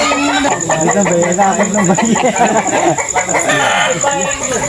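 Chickens cluck and squawk in a busy rural yard, a dense overlapping chorus of hens close by with other birds mixed in and a steady high insect-like whine above.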